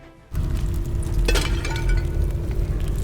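Clay pots shatter in the video game Tomb Raider Underworld: a sharp breaking crash, followed by clinking debris over a steady, rumbling background.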